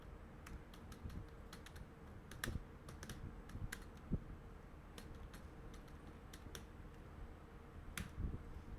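Typing Python code on a computer keyboard produces quiet, irregular key clicks and taps, some in quick bursts and some spaced apart, over a faint low background hum.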